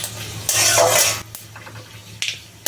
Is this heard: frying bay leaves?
yes